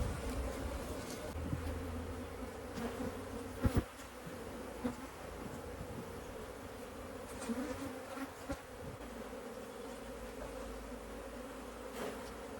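Honey bees hum in a backyard hive during a cut-out, a dense, continuous buzzing swarm close by, with a few soft knocks and bumps of hive boxes.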